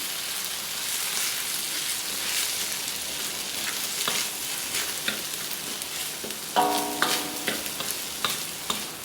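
Garlic fried rice mixed with spicy paksiw na pata fries in a pan with steady sizzling and stirring, and a burst of louder spatula scraping and clatter near the end, with no voices.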